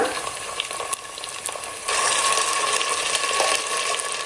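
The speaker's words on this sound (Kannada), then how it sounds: "ಹಸಿ ವಾಸನೆ ಹೋಗೋವರೆಗೂ ಇದನ್ನ ಒಂದು ನಿಮಿಷ ಹುರ್ಕೋಬೇಕು" Ginger garlic paste fries with browned onions in a pan, a steady close sizzle that swells louder partway through and carries on alone with no voices.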